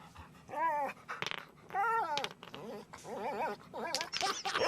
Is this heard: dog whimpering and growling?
yes